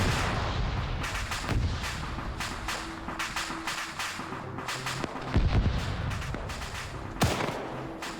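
Vehicle ammunition cooking off in the Arma 3 video game, a sustained run of sharp, popping blasts and cracks, some loud and close, with mixed gunfire amid the chaos.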